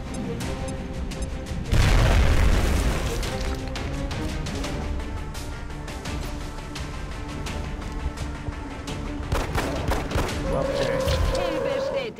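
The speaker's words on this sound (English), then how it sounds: "Throw the grenade" A grenade thrown to blow an enemy's cover in XCOM: Enemy Within bursts with a sudden loud boom, followed by a sustained rumbling tail and game sounds, with a person talking over it.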